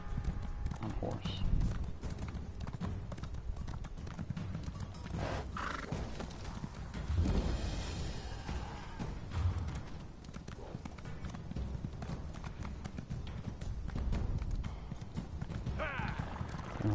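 Steady clip-clop of horse hooves trotting continuously in a video game, with an occasional whinny and someone talking over it throughout.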